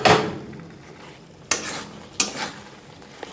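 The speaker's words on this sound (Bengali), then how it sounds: "এবার দিয়ে দিলাম আগে থেকে ভেজে রাখা চিকেনের টুকরোগুলো।" Pre-fried chicken pieces drop into a pan of dry chicken Manchurian sauce with cornflour, giving a sizzle and a few sharp clatters of utensil against pan, with no talking.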